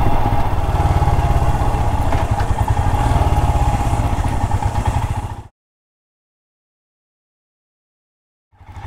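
Royal Enfield Himalayan motorcycles idle and pull away from a cafe on a Coromandel road trip, a loud, close, steady single-cylinder thump that cuts off sharply midway. After a few seconds of silence the engine sound returns at the end.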